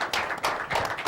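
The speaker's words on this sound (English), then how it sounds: "Let's hear a round of applause for Tony Marinelli." Brief burst of audience applause for a Vietnam veteran at a live show, a short stretch of dense clapping that rises and dips in the room with no talk over it.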